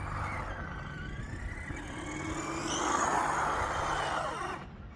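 A cheap used RC car whines and strains as it struggles to get moving, its faint electric motor rising in pitch and then easing off, with no voices.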